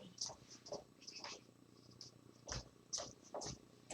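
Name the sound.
pet cat purring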